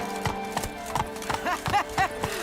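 Roach the horse from The Witcher 3 walks with close, steady clip-clop hoofbeats, along with a few short snorts and whinnies.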